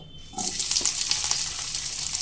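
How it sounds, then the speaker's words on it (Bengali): Soybean chunks drop into hot oil already used for frying potatoes. A brief quiet gives way to a sudden loud, continuous sizzle that carries on close up without any voice. "আলু ভেজে নেওয়া তেলের মধ্যেই সয়াবিনগুলো দিয়ে ভেজে নেব"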